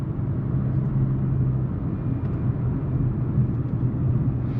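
Low, muffled engine rumble from inside the cabin of a supercharged Audi S4 as it accelerates, steady and subdued with little drone and no talking.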